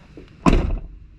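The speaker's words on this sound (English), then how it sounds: "Listen when I close the door." A Sprinter van door swings shut with a single loud, hollow clonk and a brief rattling decay, alone in a quiet setting.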